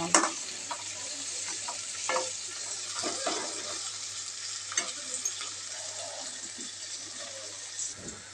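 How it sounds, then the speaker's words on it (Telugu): Okra pieces frying in oil with onions in a pan, giving a steady close sizzle with soft stirring scrapes and clinks throughout, no talk. "బెండకాయ ముక్కలు కూడా వేసాము ఇవి బాగా కొంచెం ఆయిల్లోనే బాగా ఫ్రై అవ్వాలి"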